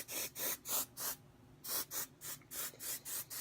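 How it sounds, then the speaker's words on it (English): Repeated short bursts from a can of hair texture spray sprayed into curls, about a dozen hissing puffs in quick rhythm with a brief pause near the middle, close by. "So now I'll take my texture spray by Moroccan Oil and just spray it up into"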